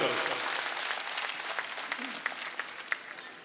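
A burst of applause from a crowd at a political nomination rally in Datia, India, clapping loudly at first then thinning out to scattered claps over a few seconds.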